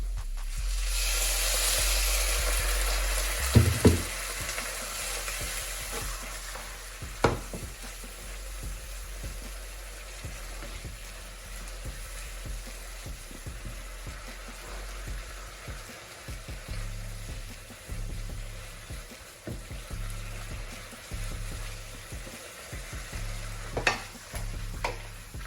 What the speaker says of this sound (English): Now we toss them. We'll try to mix with the tofu and the mixture.